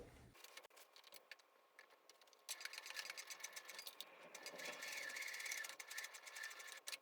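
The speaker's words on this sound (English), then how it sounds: "I have my walking foot on my sewing machine now to help feed all of these layers through at the same rate" A domestic sewing machine fitted with a walking foot quilts through thick layers, its needle stitching in rapid mechanical bursts with short pauses, then a longer steady run, close and fairly quiet.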